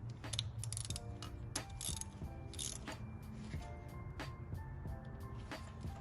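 Ratchet turned in short strokes while snugging a spark plug into the engine of a Honda Odyssey, giving repeated clicking pawl bursts close up over a steady low mechanical hum.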